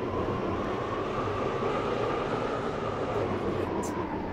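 A Class 345 airport shuttle train runs toward Airport Terminal 3 with a steady, loud rumble and rail noise heard from inside, continuous and unbroken throughout.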